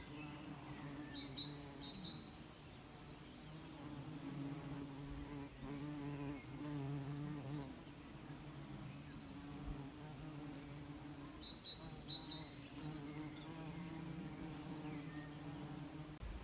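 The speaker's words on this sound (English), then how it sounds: "it's just an incredible amount of bumblebees today" Bumblebees buzz steadily around comfrey plants on a Latvian homestead, a soft, continuous hum with occasional faint bird chirps in the background of a quiet outdoor scene.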